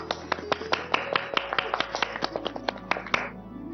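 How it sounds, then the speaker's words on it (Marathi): An audience applauds child actors after a Marathi TV serial play, with a short burst of brisk, fairly sparse hand claps that fade out near the end, heard slightly distant and without any voices. "त्यांच्यासाठी एकदा जोरदार टाळ्या."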